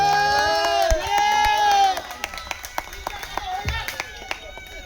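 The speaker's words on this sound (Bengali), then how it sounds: "একবার জুড়ে হাততালি চাইবো মানুষটার জন্য।" A live audience at a Bengali stage show claps and cheers briefly while a voice speaks over it, then scattered claps fade under quieter background.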